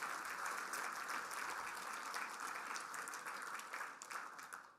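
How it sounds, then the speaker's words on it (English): An audience at an infrastructure debate event claps for the sponsors, a dense, steady round of applause from many hands that continues throughout before tapering slightly at the end. "How about a round of applause for those two?"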